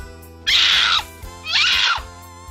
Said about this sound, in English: Monkey.